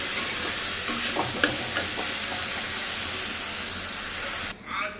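Oil sizzles loudly as cauliflower pieces fry, with a few stirring scrapes, before the sizzling cuts off near the end.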